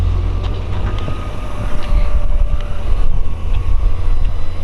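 A 1957 Ford Fairlane 500 hardtop resto-mod with a swapped LS1 V8 running, a steady low engine rumble with a subtle exhaust, recorded from a short distance and lightly buffeted by wind.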